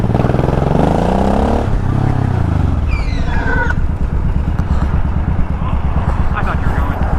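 A motorcycle engine revs loudly up close, rising and falling in pitch before settling into a rough, pulsing idle, with speech over it.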